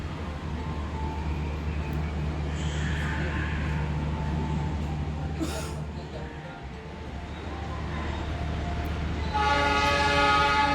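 Taksaka passenger train arriving at Jatinegara station, a low steady rumble of rolling carriages with brief tonal horn or whistle notes and a louder harmonic horn blast at the end, while announcements and voices sound in the background.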